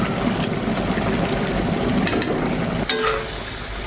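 Leafy greens frying over high heat in a frying pan, a loud continuous sizzle broken by a few sharp scrapes of stirring, close up with no voices.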